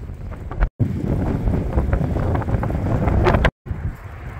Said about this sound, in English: But it sure is windy.